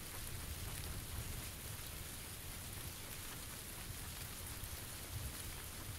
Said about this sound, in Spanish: Encima ahora con la lluvia que no se oye nada.